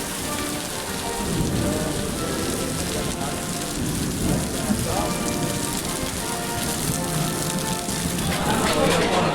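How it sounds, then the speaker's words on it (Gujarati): Heavy rain pours steadily and loudly throughout, a dense broadband hiss with a faint rumble of thunder low underneath, heard close and continuous during a downpour. "આ વરસાદનો અવાજ આવતો છે તમને"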